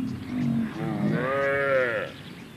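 Cape buffalo herd grazing on the Serengeti, with a long, drawn-out lowing moo rising over a low rumble of background noise, fairly close and clear, lasting about a second and a half before fading.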